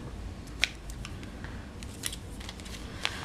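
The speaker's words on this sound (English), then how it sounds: "Let me grab my scissors." Scissors cutting ribbon while making a multi-panel accordion fold card, a few crisp, separate snips spaced out over low room hiss, close and fairly quiet.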